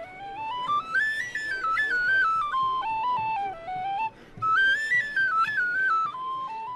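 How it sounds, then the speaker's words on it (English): A tin whistle plays a lively Irish traditional tune solo at a Fleadh Cheoil music festival, notes stepping up and down in two phrases with a short breath between. "I certainly didn't expect to find an Irish-speaking whistle player, Richard Suave from London"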